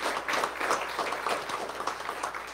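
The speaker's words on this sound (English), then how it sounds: "Let's give a hand clap of praise to those who protect our lives and our property." Church congregation claps hands in praise, a brief burst of dense, irregular clapping from many people in a reverberant room, moderately loud with no talk over it.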